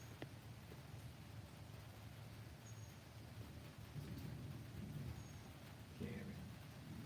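Steady rain falling outside a garage, a constant broadband wash of drops with low rumbling underneath and occasional faint bird chirps, no clear talk.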